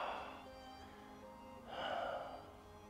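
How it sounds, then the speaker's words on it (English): A slow, audible breath during a power yoga stretch: a soft, airy rush that eases off, then a second, stronger breath, close and quiet with no talking. "Inhale, exhale."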